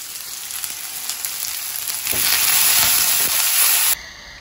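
Taki and baila fish fry in hot oil, a loud close continuous sizzle that grows denser and louder partway through, then cuts off abruptly near the end.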